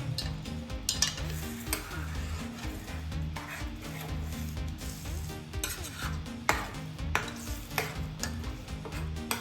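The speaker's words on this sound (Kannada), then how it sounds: "ಇದನ್ನು ಚೆನ್ನಾಗಿ ಮಿಕ್ಸ್ ಮಾಡೋಣ." Egg gravy being stirred in a pan, with a steady scraping and gentle sizzle running continuously and close, occasional utensil knocks against the metal.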